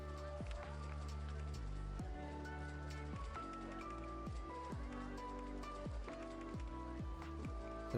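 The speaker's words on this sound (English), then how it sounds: "Oh no, here comes the rain." Rain falling in the video game Rollercoaster Tycoon 2, a steady patter under the game's tonal music and effects, even and continuous across the whole stretch.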